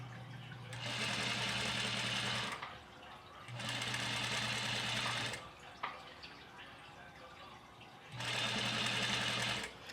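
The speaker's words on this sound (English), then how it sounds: "I'm going to sew 1/4 of an inch from the edge" A sewing machine stitches a washable fabric face mask in three separate runs of rapid, steady whirring, each lasting about two seconds, with quiet pauses between them and a few faint clicks.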